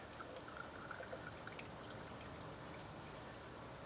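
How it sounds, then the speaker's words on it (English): Motor oil draining from a 2016 Nissan Rogue into an oil pan makes a faint, steady trickling pour that runs unbroken throughout. "once you get it loose, then it'll just drain into the"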